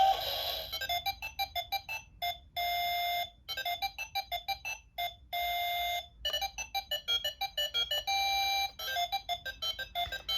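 A Break the Safe electronic toy game plays its bright, beeping electronic tune in choppy bursts and sustained tones, alone and fairly clear with short gaps.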